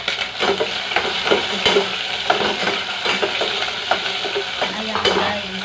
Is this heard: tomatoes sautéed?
yes